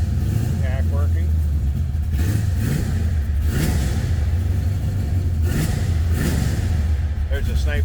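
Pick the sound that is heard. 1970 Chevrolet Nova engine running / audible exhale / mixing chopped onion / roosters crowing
1970 Chevrolet Nova engine running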